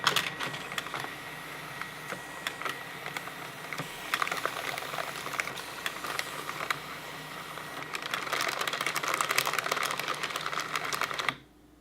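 A ScanSnap iX500 document scanner feeds and scans long sheets of paper, giving a steady mechanical whir with rapid clicking and rattling that builds toward the end, then stops abruptly.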